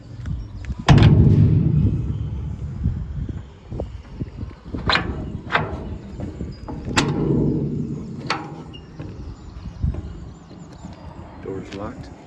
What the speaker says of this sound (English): Doors closing like so.